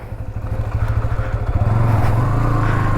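A TVS Apache 160 two-valve motorcycle engine runs while being ridden, a close, steady growl whose pitch and loudness climb as the rider accelerates through the gears.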